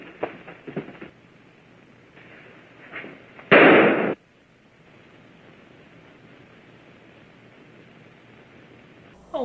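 A single sharp gunshot from the film Reefer Madness, one loud burst standing out briefly against quiet background hiss, with faint dialogue-like sounds before it.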